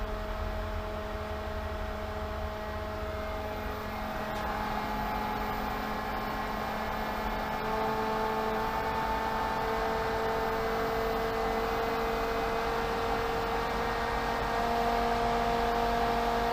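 A Pentair SuperFlo VS variable-speed pool pump runs steadily throughout, a continuous motor whir with a sustained electrical hum that shifts slightly in pitch partway through as the speed changes.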